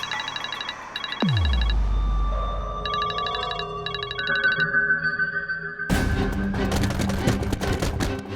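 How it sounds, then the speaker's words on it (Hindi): A phone rings in several bursts of a bright electronic ringtone, with background music and a dramatic swell underneath and no talking. "ये तुम्हें फोन क्यों कर रही है?"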